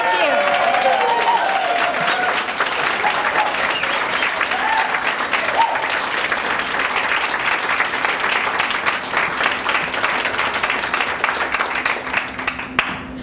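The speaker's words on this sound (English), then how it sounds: "let's give them a big roaring applause" At a women's peace league awards gathering, a crowd breaks into loud, sustained applause with a few voices calling out early, the clapping continuing for several seconds before tapering off near the end.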